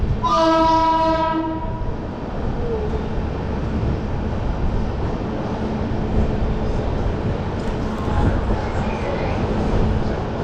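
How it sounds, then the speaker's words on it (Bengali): Shantiniketan Express superfast train running at high speed, a horn blast at the start giving way to a loud steady rumble and rattle of the carriages, heard from on board. "সুপারফাস্ট ক্যাটাগরি ট্রেন প্রচণ্ড স্পিডে চলে, মানে 130 কিলোমিটার বেগে ট্রেনটা চলে।"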